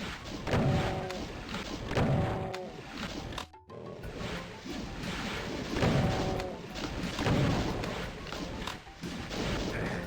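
Booming super shotgun blasts in Doom II fire repeatedly against Hell Knights, heavy thuds spaced a second or two apart amid monster growls and game noise.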